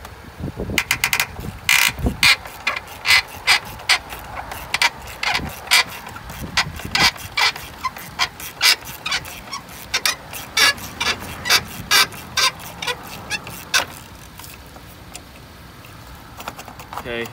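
A ratchet clicks in short repeated bursts while loosening a 10mm bolt on the battery bracket of a Toyota Yaris, close and crisp, with pauses between strokes and occasional metallic handling noises.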